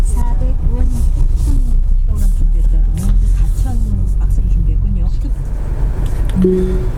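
A SsangYong car, a Korando or Tivoli, pulls away and drives on a road with a steady close engine and road rumble, while people talk over it throughout.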